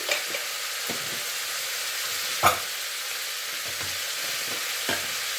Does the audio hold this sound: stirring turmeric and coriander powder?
yes